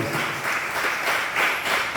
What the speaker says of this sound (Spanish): Denle un aplauso a Él por eso, hermano.